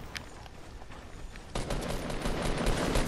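Video game gunfire starts faintly over quiet background noise, then turns into a louder, sustained barrage of rapid shots about halfway through, with no one talking.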